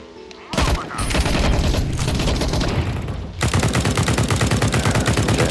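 Loud, rapid automatic gunfire rattles in sustained bursts during a dark, rainy night battle on an Italy map in a shooter game, with a short pause before a second long volley.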